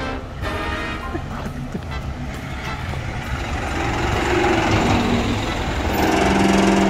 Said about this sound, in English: Here comes the Carvana truck.